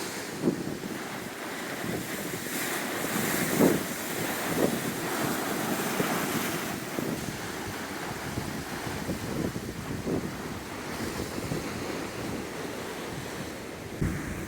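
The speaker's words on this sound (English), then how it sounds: "there's a backup wave coming" Ocean surf at the UK's most southerly point, waves washing and splashing on a rocky shore with steady wind noise, a continuous roar with several louder surges.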